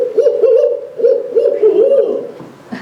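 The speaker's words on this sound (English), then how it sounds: "the barred owl, named for the barring, the stripes on their feathers, says who cooks for you" A barred owl gives its rhythmic hooting call, the classic who-cooks-for-you phrase, repeated in two loud, close series of low hoots with a brief pause between.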